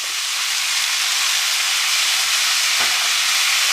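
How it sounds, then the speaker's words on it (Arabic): Vegetables sauté in a pan with the sauce released from chicken breasts, giving a steady, loud, broadband sizzle that runs without a break and with no talking. "هنسيبه يتشوح مع بعضه تشويحه بسيطه"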